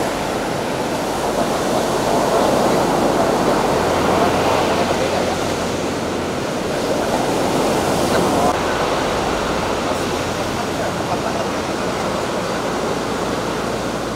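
Loud, continuous roar of surf at night with large ocean waves breaking on the shore in slow surges, steady and close throughout.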